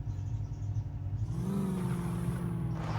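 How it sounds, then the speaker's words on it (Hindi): At night, a Mahindra Thar SUV idles after being started, a low steady engine hum that rises in pitch partway through as it revs, then settles into a higher drone. "गाड़ी को स्टार्ट कर लिया और अब जल्दी से जाते हैं"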